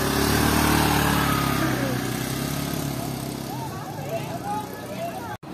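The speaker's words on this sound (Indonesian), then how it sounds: "Sudah dihidupkan ya untuk mesinnya, dan tinggal pemberangkatan ini." Motorcycle engine with a racing exhaust at a steady idle, loud and close, with a voice talking over it. The drone fades a little toward the end.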